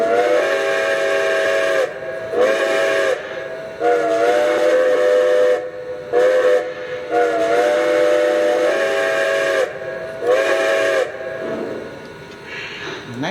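Short repeated toots of a Lionel Legacy Santa Fe 4-8-4 Northern model train steam whistle, about six bursts with gaps of hiss between them, near and fairly loud.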